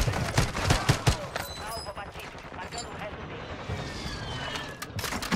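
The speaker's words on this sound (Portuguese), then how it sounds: "Eu tô atirando no inimigo!" Rapid bursts of automatic gunfire crackle through a Call of Duty Warzone 2.0 match, loud and repeated, with a player's voice talking over the shots.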